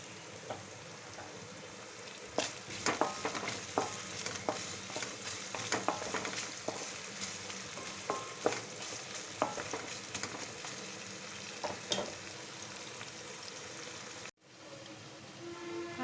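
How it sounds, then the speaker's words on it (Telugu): Onions with salt sizzle and fry in a pan for a simple chicken fry, with a steady hiss broken by repeated scraping taps of a spoon stirring, close and moderately quiet, one brief dropout near the end. "ఆనియన్స్ వేపుతూ ఉన్నాయండి"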